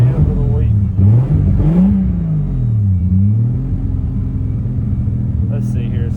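A car engine revs up under the hood, a steady low rumble whose pitch rises and falls in slow swells while the throttle is worked; the sound is close and loud, and a voice speaks over it throughout.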